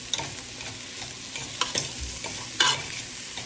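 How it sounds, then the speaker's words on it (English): Cabbage and ribs stir-fried with herbs and spices in a hot pan, giving a steady close sizzle broken by the scrape and clatter of stirring every second or so, with no voices. "And stir fry, lots of herbs and spice."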